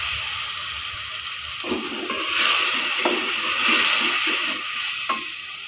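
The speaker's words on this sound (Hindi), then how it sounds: "मसाले को भून लें" Sizzling and hissing from a spice paste frying in hot oil for potato pakora curry, steady throughout, with occasional stirring scrapes and brief louder bursts of spatter.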